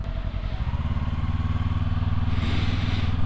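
Quiet idle of a stopped Kawasaki Ninja 250 motorcycle, a low, rhythmic mechanical purr that holds steady and gently thickens toward the end.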